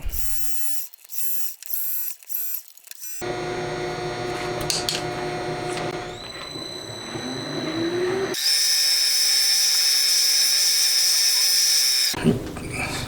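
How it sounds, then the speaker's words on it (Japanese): A small machine tool drills a hole and then reams it in a metal camshaft part made for a Honda Monkey engine. It gives a loud, steady whirring cut that shifts in pitch between stages, with brief clatters and a high ringing whine. "こちらも穴を開けてリーマン仕上げをしていきます"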